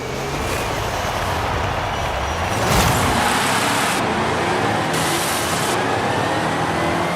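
Car engine in the Forza racing video game during a night race, a continuous mid-level roar with a brief surge near the middle, running steadily without speech.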